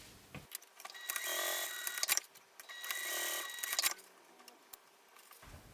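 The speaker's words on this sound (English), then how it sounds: "So sew down each of them, back stitch at the beginning and the end." A sewing machine stitches down the credit card slots of a fabric wallet, two fairly faint bursts of rapid whirring stitching, each about a second long, with clicks and handling noise between.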